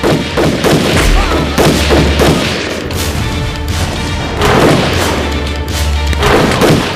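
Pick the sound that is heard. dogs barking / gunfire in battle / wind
gunfire in battle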